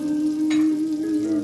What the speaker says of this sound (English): the next steps is to cook our egg up over easy